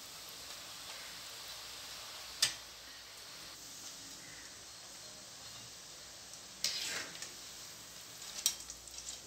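Omapodi snack dough frying in hot oil, a faint steady low hiss and bubbling with a few sharp clicks and taps from a utensil, no voices.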